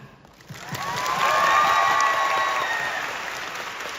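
Audience applause at a touring dance stage show in Busan, clapping swelling in after a quiet start, peaking midway and holding steady to the end.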